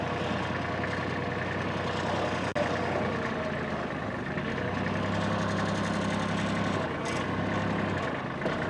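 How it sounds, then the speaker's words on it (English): A tractor engine rumbles steadily while pulling a big tree limb with a strap. A low, constant drone holds close by, with one brief knock partway through and a slight shift in load toward the end. "he's gonna use his tractor to try to pull it out of there."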